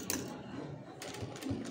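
Sewing machine stitching a straight seam along a cloth edge, with short bursts of rapid mechanical clatter from the needle separated by brief pauses, close up and moderately loud, with no talking.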